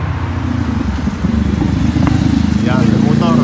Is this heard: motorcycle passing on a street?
yes